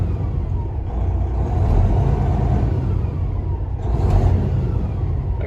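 A Detroit reman drop-in engine in a 2020 Freightliner Coronado glider truck rumbles loudly and steadily up close, rising in a rev around the middle and swelling again near the end, with no voices.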